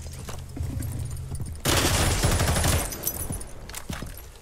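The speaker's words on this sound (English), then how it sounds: "I'm shooting out on the holy window" Rapid bursts of gunfire in Rainbow Six Siege as a window is shot out, a loud dense volley lasting about a second, then quieter scattered shots and clatter around it.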